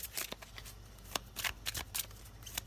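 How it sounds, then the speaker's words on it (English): Tarot cards are shuffled and drawn from a deck, a soft close rhythm of riffling and sliding card flicks, quiet and alone. "I feel like pulling 2 more cards"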